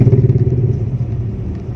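A car engine pulling uphill in third gear, a loud close throbbing rumble with a fast pulsing beat that eases slightly over the short stretch.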